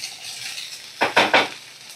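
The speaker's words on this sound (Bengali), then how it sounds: "এবার আমি এই যে ভিজানো জল ঝরানো চিড়েটা দিয়ে দেব, আর ফ্লেমটাকে আমি একদম লো ফ্লেমে করে রেখে দেব" Soaked and drained flattened rice (chira poha) fries in a pan on a low flame, with a steady soft sizzle and then three quick, close scraping strokes of a spatula stirring it.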